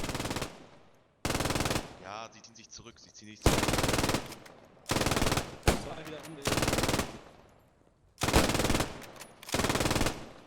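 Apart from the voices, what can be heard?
machine gun fire in the video game Post Scriptum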